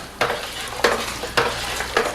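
A sanitized paddle sweeps counterclockwise through a pot of cooling home-brewed beer wort, giving four regular swishing strokes about half a second apart, close and fairly loud, with no voices.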